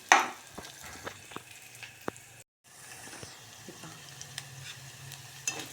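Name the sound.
potatoes, cumin and ground mixture frying for bhagar khichdi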